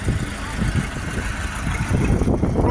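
YuMZ 8280 tractor engine running steadily nearby, a low rumbling idle-like drone with rough mid-range texture throughout, fairly quiet and continuous.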